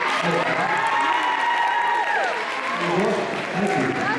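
An audience claps and cheers after a young singer performs at an addiction-expert event in NYC, giving a sustained crowd roar with whoops mixed in and voices over it.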